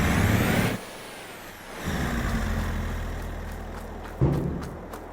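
A pickup truck towing a trailer pulls in and parks on a farm, engine rumbling close, dropping off briefly before idling on, with a sharp hiss of air near the end.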